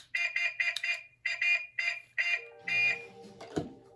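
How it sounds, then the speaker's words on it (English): Electronic horn effect from a digital slot car accessory, a series of short, loud, evenly spaced beeping honks followed by a longer blast and a click. "Second one's just a horn."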